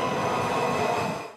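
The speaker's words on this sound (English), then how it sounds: "Rush hour Thursday evening, the Green Line Metro train headed to Branch Avenue." A Washington Metro Green Line subway train running at rush hour, a loud steady rumble of wheels on rail with a faint high squeal, close by and continuous with no talk.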